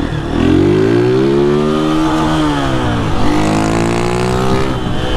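A delivery motorcycle fitted with a loud tin exhaust revs hard up close, its raspy buzzing note rising and falling through several throttle blips with no break, and no voices over it.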